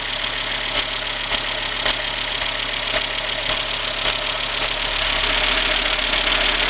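A Volvo car engine idles steadily just after a thermostat gasket repair, with a constant close mechanical hum and a light, even ticking running alone throughout.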